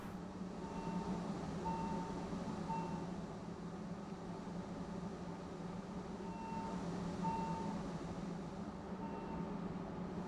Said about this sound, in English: Stops right here on the level crossing. Proper beeping as well, very nice.